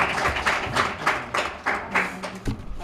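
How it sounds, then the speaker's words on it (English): Audience applause at a customer service week convention, a burst of clapping with uneven rhythmic peaks lasting a few seconds, fairly close and moderately loud. "Let's give him a round of applause,"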